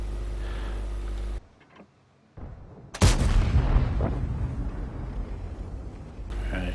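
A tank cannon firing in a tank video game, one sharp heavy blast after a brief quiet gap, followed by a long rumbling decay amid game background noise.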